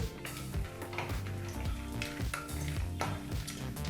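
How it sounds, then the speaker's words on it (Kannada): About two tablespoons of peanuts fry in hot oil on a low flame for masala lemon rice, giving a steady sizzle broken by repeated spoon stirs and clinks against the pan. "ಎರಡು ಟೇಬಲ್ ಸ್ಪೂನಷ್ಟು ಕಡಲೆಕಾಯಿ ಬೀಜನ ಹಾಕಿ ಲೋ ಫ್ಲೇಮ್ನಲ್ಲೇ ಒಂದು ನಿಮಿಷಗಳ ಕಾಲ ಫ್ರೈ ಮಾಡ್ಕೋಬೇಕು"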